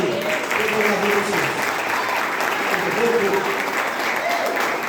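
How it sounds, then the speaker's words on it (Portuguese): Church congregation clapping during a worship service, a loud, continuous wash of many hands with voices and faint tonal sounds mixed in beneath the clapping. "Pode bater palmas aí."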